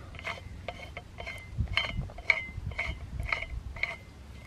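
Threaded handle section of a Yeacool portable folding shovel screwed on by hand, a close, steady series of regular metallic ratcheting clicks with light scraping between them.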